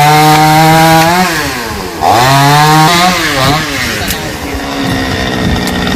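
Chainsaw cutting straight through a long branch of a rain tree without a rope, its loud engine whine rising and dipping as the chain bites, close up and continuous.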